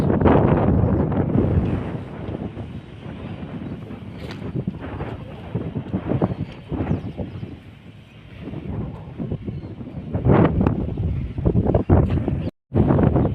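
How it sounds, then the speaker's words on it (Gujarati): Cool monsoon wind gusting across an open microphone, a broad steady roar that swells and eases over time, with occasional faint voices under the rushing air. "મસ્ત ઠંડો પવન આવે."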